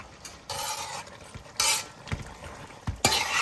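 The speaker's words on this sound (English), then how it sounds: "we're just spinning everything in the pot. Stirring everything" Jamaican-style curry chicken stirred in a pot: loud scraping, swishing spoon strokes come in repeated bursts over a background frying sizzle, close up and without talk.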